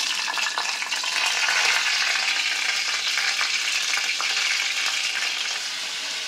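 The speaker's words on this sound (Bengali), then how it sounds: "এই বডিটা আর কাঁকড়িগুলো একটু ভেজে নিচ্ছি" Crab body pieces frying in mustard oil in a wok give a loud, dense, unbroken sizzle that holds steady throughout, with faint scraping and stirring underneath and no voices.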